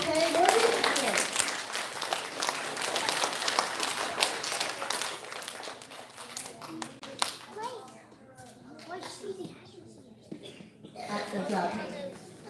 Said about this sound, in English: can we have a round of applause for our 4PK award recipient?